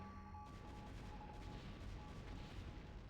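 Dense, rumbling explosions and battle noise from a StarCraft free-for-all match, a continuous low, muffled barrage with scattered impacts that stays fairly quiet throughout.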